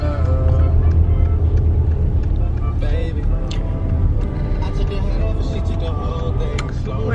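Steady low road rumble and engine drone inside a moving car, loud and continuous, with faint clicks and rattles over it and no speech.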